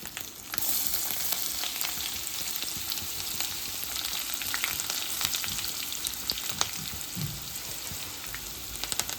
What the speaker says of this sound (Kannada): ಎಣ್ಣೆ ಕಾಯ್ದಾದ್ಮೇಲೆ ಜೀರಿಗೆ, ಸಾಸ್ವೆ ಹಾಕ್ರಿ